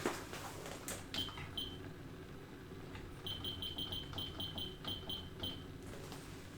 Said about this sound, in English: So I'm going to put my kitchen timer on for half an hour.